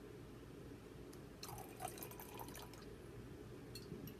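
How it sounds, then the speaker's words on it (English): Wine poured from a bottle into a glass, a short soft liquid trickle lasting a couple of seconds over a steady low background hum. "That's a short pour."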